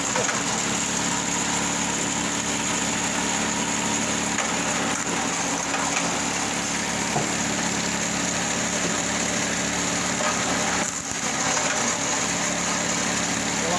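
A small engine drives a firewood splitter, droning continuously and loudly at close range with a steady, unbroken hum and only slight dips, no voices.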